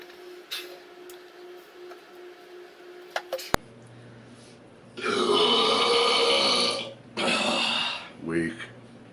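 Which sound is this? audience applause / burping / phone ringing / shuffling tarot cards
burping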